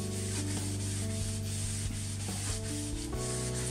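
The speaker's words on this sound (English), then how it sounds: "And you just basically scrub back and forth for 10 minutes." A plastic car headlight lens being scrubbed back and forth by hand with a cleaning compound, a steady close rubbing and sanding texture that carries on continuously without a break and with no voices.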